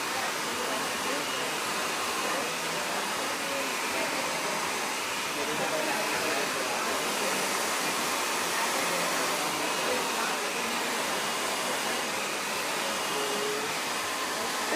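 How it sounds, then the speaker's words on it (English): A hair dryer blows steadily throughout while a stylist dries hair backwards into shape after working in liquid wax, a constant broadband airflow roar with no clear talk on top. "as soon as you start blow drying it backwards, and you can see the shape a bit stronger"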